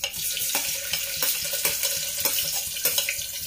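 Onions dropped into hot oil with cumin and bay leaves crackle and fry in a busy, close sizzle, broken by repeated stirring scrapes and clinks.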